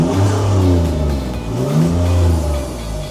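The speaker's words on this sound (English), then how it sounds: "The last thing that I want to touch on was the exhaust. I think it sounds minted." A Land Rover Discovery 4 engine revving up and down twice through the exhaust, a deep loud roar rising and falling, close by.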